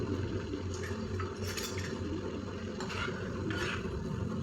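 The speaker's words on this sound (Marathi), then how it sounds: "आता मी यामध्ये फिशचे पीस चांगले परतून घेणार आहे" Fish pieces are stir-fried in masala with a continuous close sizzle, while a utensil scrapes and clinks against the pan in a few short bursts.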